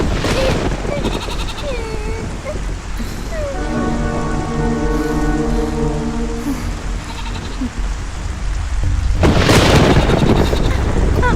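Steady rain falls in a dubbed film scene, a constant hiss under emotional voices and crying, swelling into a louder, heavier downpour near the end.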